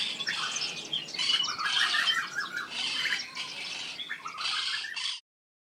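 Two parrots call in a jungle, harsh squawks and chattering cries in overlapping bursts, close and loud, before cutting off abruptly.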